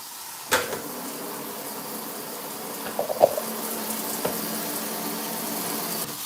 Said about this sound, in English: And then we'll just rinse all of the rice.